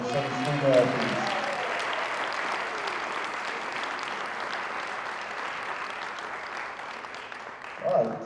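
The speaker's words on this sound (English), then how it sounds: "let's give one last huge round of applause for our student athletes" Sustained applause from a crowd at a high school signing event for student athletes, steady clapping filling the room with a brief voice at the start and another near the end.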